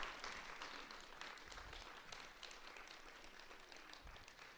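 A symposium audience applauds its panelists, faint and steady clapping from a room crowd that continues evenly for a few seconds without talk.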